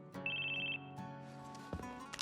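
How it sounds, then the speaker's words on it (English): Telephone ringing inside the video game Final Fantasy VII, a steady electronic ring pulsing in a quick repeated pattern over background game music, then breaking off as the music carries on. "Of course he gets a phone call."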